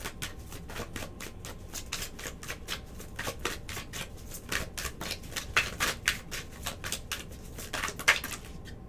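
Tarot cards are riffled and shuffled by hand in rapid, crisp bursts, then drawn with light flicks and taps, close and fairly quiet with no talk.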